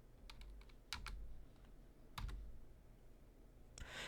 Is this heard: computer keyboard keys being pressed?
yes